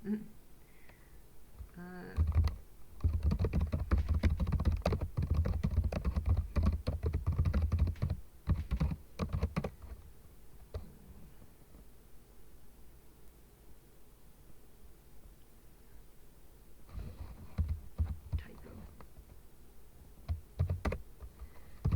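Rapid clattering keystrokes on a computer keyboard as a password is entered, in two bursts with a quieter gap between, close and fairly loud.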